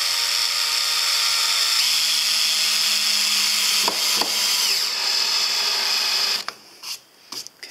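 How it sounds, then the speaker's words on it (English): Small countersunk screws being driven straight into wood with a power drill while boxing in the wheel arches of a camper van conversion; a loud, steady whine runs for several seconds, then stops and gives way to a few short bursts. "there's little chance of it splitting the wood, so we can just drill these"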